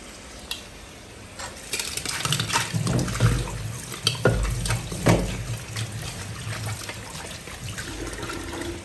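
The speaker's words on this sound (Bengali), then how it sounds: "এটা ধুইতে হবে, ধুয়ে নেই।" Running tap water splashes over a homemade meat spice as it is rinsed by hand in a village kitchen, a steady close wash with intermittent stirring and splashing bursts, no talking.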